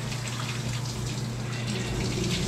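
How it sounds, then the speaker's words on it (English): Water gushes out onto a household floor while a large dog is being washed, a loud steady close rush that carries on without a break or talk. "a lot of water pouring out on the floor"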